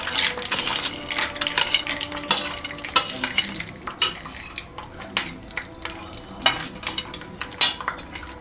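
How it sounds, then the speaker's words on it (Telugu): Cashews and coconut pieces lightly frying in a pan, with frequent metallic clinks and scrapes of a spoon stirring against cookware, close and busy throughout, with a soft sizzle underneath. "కొన్ని జీడిపప్పులు అలాగే కొబ్బరి ముక్కలు అన్నమాట. ఇవి కొంచెం లైట్గా ఫ్రై చేసేసుకొని"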